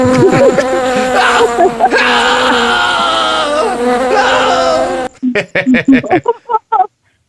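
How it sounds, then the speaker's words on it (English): Loud, continuous droning buzz of a bee, wavering in pitch for several seconds, then breaking into a few short choppy bursts. "Wait, where's the bee noises?"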